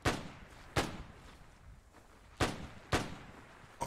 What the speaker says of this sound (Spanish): Oh, espera, sí, disparos.